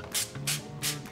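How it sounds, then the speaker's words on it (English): Cooking oil sprayed onto chicken inside an air fryer basket: three short hissing spray bursts in a steady rhythm, close and moderately loud, with a faint low hum between them. "I'm gonna take some oil and spray it down as well."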